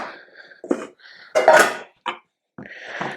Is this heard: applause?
no